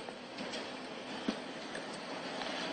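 A train rolls past at a distance, a soft, even rumble with faint metallic clicks and a single sharp knock.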